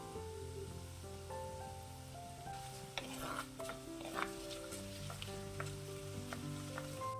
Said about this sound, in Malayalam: ഇനി ഇതിലോട്ട് 1/2 സ്പൂൺ കായപ്പൊടി ചേർത്ത് ഒന്ന് ഇളക്കിയെടുക്കാം